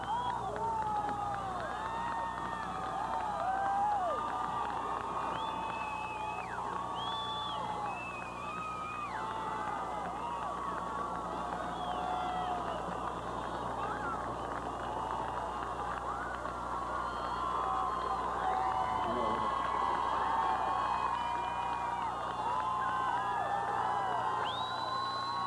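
Fans cheering at the Denver Broncos Super Bowl parade, a sustained crowd roar with whoops, shouts and scattered screams from many people outdoors, steady and fairly distant throughout.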